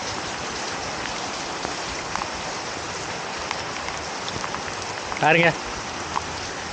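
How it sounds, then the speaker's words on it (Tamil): Heavy rain falls steadily in Palayamkottai, Tirunelveli, a dense even hiss of drops close by throughout, while a person talks over it and a short louder burst of sound cuts in near the end. "நல்ல மழை பெய்யுது."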